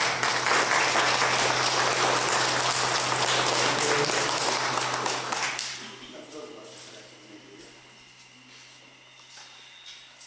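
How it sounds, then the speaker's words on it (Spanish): Loud audience applause at a religious fiesta in honour of the Santísima Cruz de Mayo in Quero, Jauja, a dense burst of clapping for about five seconds that fades into quieter scattered claps and murmuring. "Fuertes palmas"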